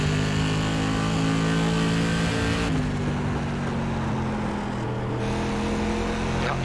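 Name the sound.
race car engine in iRacing video game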